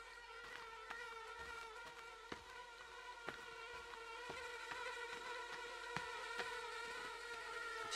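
Bees buzzing in The Forest video game, a continuous layered insect drone with faint intermittent clicks, steady and moderately quiet, no speech.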